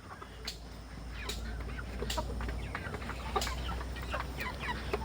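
Chickens at a poultry farm cluck and call repeatedly at close range over a constant low hum, with short sharp calls scattered throughout.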